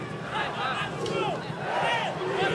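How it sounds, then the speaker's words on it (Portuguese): Altos football fans in the stands jeer and shout at the referee during the Piauiense 2024 final against Parnahyba, a steady roar of crowd voices under close commentary. "aí a torcida vai para cima da arbitragem, né? Torcida do Altos."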